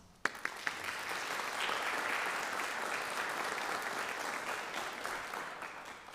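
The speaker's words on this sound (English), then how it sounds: "Please join me in thanking them with a round of applause." A hall audience at a National Honor Society induction ceremony bursts into applause, starting with a few sharp claps and swelling into steady, sustained clapping that slowly tapers.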